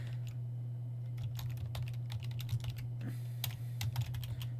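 Rapid, uneven clicking of fingers typing on a computer keyboard, close and fairly quiet over a steady low electrical hum, with short pauses between bursts of keystrokes.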